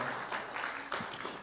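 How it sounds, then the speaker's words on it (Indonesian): Applause from a church congregation at a Sunday service, heard as a soft, continuous patter of many hands clapping at moderate distance. "mari kita beri tepuk tangan yang meriah bagi Tuhan kita"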